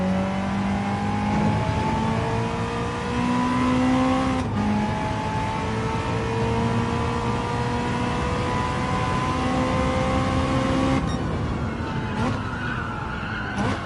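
A race car in Gran Turismo 7 braking hard, its loud engine note dropping in pitch as revs fall, with a brief tyre skid and a gear change near the end, steady and close throughout.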